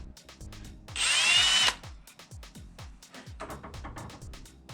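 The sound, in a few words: power drill drilling into metal part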